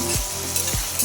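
Mutton pieces frying in a pan while being stirred, with a steady close sizzle and two scraping stirs of the spatula across the pan.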